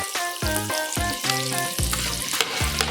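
Plenty of chopped onions frying in a hot pan for a shrimp and mung bean dish, giving a steady, close crackling sizzle with stirring noises. A tonal hum or music runs underneath throughout.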